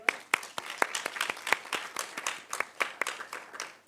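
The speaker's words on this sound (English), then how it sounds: "Can we give Prof a round of applause?" Scattered audience applause at a university research event, a small group clapping unevenly with distinct individual claps, moderately close and fairly quiet.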